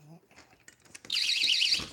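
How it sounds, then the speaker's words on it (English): A door alarm goes off suddenly, a loud, warbling high-pitched electronic tone that sounds for almost a second right after a voice, then cuts out. "I got the alarm on my door"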